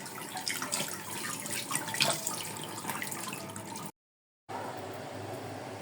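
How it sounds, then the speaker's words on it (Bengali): Hilsa fish being rinsed by hand under a running tap produces a close, continuous splash of water with irregular sloshing bursts, then a short gap of silence before the flow resumes, and no one speaks. "তো ইলিশ মাছটা আমি একটু ধুয়ে নেই"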